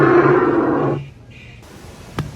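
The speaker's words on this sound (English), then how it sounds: "When this bird opens its mouth, it sounds like a lion roaring." An Australian bustard's call, a deep, loud, roaring rumble lasting about a second like a lion's roar, followed by quiet and a faint short sound near the end.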